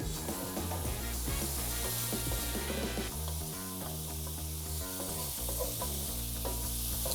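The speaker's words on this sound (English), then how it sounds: "now that all the Brussels are flipped over, you got that nice hard sear, I'm adding some minced garlic to the party" Minced garlic sizzles in a hot pan alongside hard-seared Brussels sprouts, a steady broadband frying hiss under a layer of tonal music, with occasional stirring.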